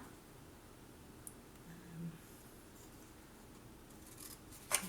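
Scissors snip through scrapbooking paper along a pencil line, quiet, soft cutting strokes over a faint room hush, ending in one sharper close click.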